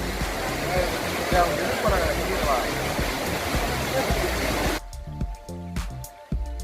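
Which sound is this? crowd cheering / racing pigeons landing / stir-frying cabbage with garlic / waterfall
waterfall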